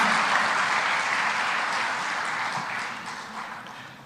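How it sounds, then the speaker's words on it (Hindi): An audience at a public event in Madhya Pradesh breaks into sustained applause, a dense wash of many hands clapping together that holds steady and fades slightly toward the end, with no voices over it. "जरा तालियों से अभिनंदन करें"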